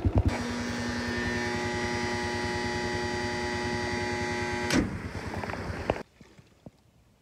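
A farm water pump drones steadily with a strong low hum and rhythmic mechanical pulsing, then a loud clunk cuts it off, leaving near silence with faint scattered knocks and movement.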